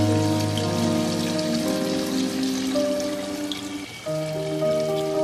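About a cup of mutton stock poured into a dhaba-style bhuna mutton curry with chopped green chilies, a steady liquid splash and patter lasting several seconds beneath background music.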